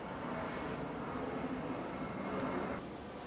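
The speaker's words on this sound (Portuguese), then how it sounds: "deu uma pausa aqui, gente, porque do avião que passou aqui agora" An airplane passes overhead as a steady, broad engine roar that stays loud and constant through the moment, with a faint tonal hum inside the rumble.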